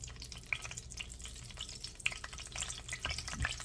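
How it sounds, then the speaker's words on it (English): Pork chops searing in a hot skillet set on low, a quiet sputtering sizzle with scattered sharp pops and crackles, close but faint. "Now with the skillet being hot, when you drop your pork chops in, it will seal the juices in"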